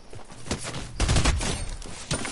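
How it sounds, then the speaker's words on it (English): Video game pistol fire during an online match: a quick burst of loud, close shots running together over dense game noise, with no talking. "I shot 2 kills with a pistol."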